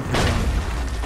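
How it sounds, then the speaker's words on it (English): A single deep boom of cannon fire from a naval blockade in a video game, loud and close with a short rumbling tail. "the cannon fire is coming from the"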